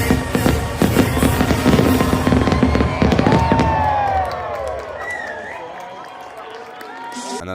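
Disney nighttime spectacular fireworks finale bursting in a rapid barrage of loud cracks and booms over a cheering crowd, then thinning into scattered crackles and whistling tails as the noise fades.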